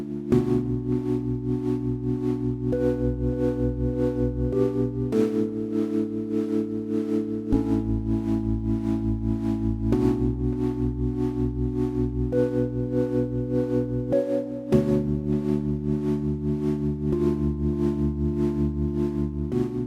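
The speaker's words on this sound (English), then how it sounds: "It is in fact an incredible synth which can sound like this." Sustained synthesizer chords, rich and steady, shifting to a new harmony roughly every few seconds with no pauses and no voices.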